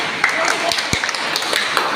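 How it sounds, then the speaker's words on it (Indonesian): A short burst of applause for a student in a church catechism class, scattered claps spread over two seconds, one sharper clap standing out, set against a dense, noisy room background. "Silakan tepuk tangan buat Adinika"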